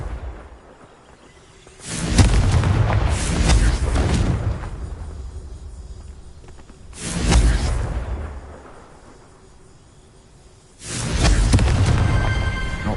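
Three separate Confringo fire-blast explosions from Hogwarts Legacy burst out loud and close, each a whooshing roar with a heavy boom that fades over a second or two, separated by quiet gaps.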